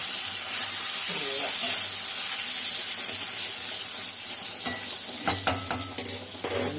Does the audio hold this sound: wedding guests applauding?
no